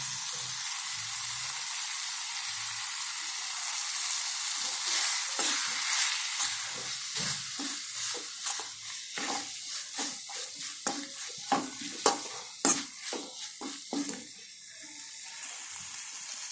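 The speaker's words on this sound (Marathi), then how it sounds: "एवढं टाकल्यानंतर मिक्स करून घ्यायचं आहे" Tomato chutney with groundnut powder is stirred in a pan over low heat, a steady wet sizzle overlaid with repeated scraping strokes that grow denser and sharper toward the end, with no talking.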